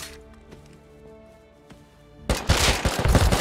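Gunfire erupts in the survival game Rust: after a quieter stretch of low tonal hum and faint clicks, a dense, loud volley of rapid shots bursts in and keeps going to the end.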